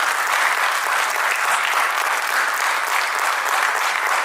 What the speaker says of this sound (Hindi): तो जोरदार तालियां इन सभी कलाकारों की होनी चाहिए दोस्तों।